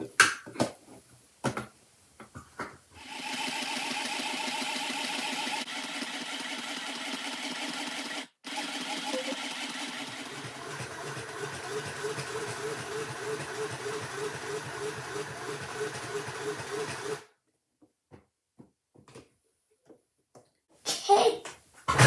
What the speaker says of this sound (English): And now, I'm going to begin sewing.